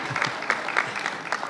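Applause from the audience at a university matriculation ceremony, a steady wash of many hands clapping at close-to-moderate distance for the full stretch, with no voices over it.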